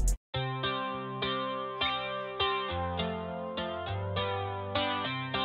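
An Afrobeat beat built from a sample in FL Studio plays alone, with a loud, layered, chorus-washed melodic loop over steady repeating drum hits. A brief burst opens it, then a short gap before the groove starts.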